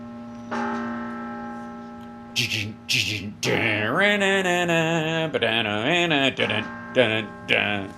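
Deep, sustained church bells hum from the start, then a voice sings or speaks loudly over them, with the ringing continuing underneath throughout.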